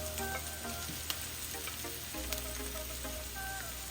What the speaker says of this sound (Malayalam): കുറച്ച് ഇഞ്ചി, പച്ചമുളക്, നമ്മളെടുത്ത് വെച്ചിരിക്കുന്ന ക്യാപ്സിക്കവും കൂടെ ഇട്ട് നന്നായിട്ട് നമുക്ക് വഴറ്റിയെടുക്കാം